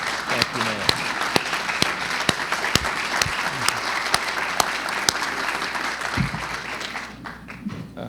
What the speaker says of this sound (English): So I think we ought to rise and give her a round of applause as well.